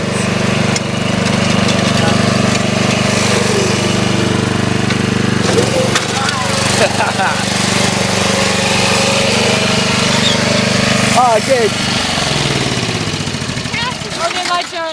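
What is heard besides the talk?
lawn mower running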